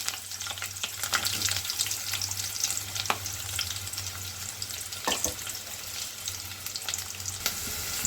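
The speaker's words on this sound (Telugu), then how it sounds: "ఇప్పుడు ఆయిల్ ఎక్కిందండి కొంచెం కరివేపాకు కొంచెం ఆనియన్ వేసుకోవాలి" Curry leaves and onion fry in hot oil for a spicy chicken fry, a steady close sizzle with a few sharp crackles and spatters, no voices.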